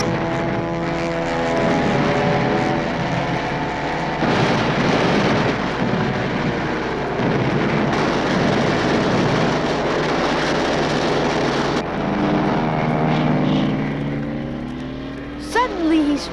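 A propeller airplane sound effect with anti-aircraft shells bursting around it on a Peanuts storybook record: a loud, steady droning engine with buzzing harmonics, broken by sharp blasts and a whistling sweep near the end.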